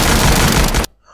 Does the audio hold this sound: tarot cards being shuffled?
no